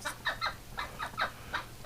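A duck being given medicine utters a run of short, nasal, clucking calls in quick irregular bursts, close by and fairly clear over low background noise.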